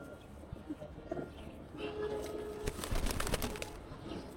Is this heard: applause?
no